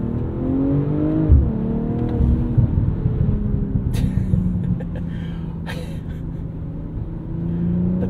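A 2023 BMW M340i with the B58 engine pulls hard in the Coachella Valley, its exhaust droning and rising steadily with a few sharp pops and crackles breaking through mid-run.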